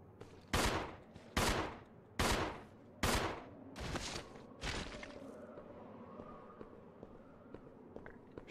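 Six sharp pistol shots from a video game, about one per second, loud and close, trailing off into a low hum of game ambience with faint footsteps.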